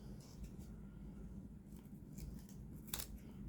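Scissors snip across a paper envelope while it is cut along the seam at an angle, giving soft continuous crisp cuts over a steady low hum, with one sharper snip near the end.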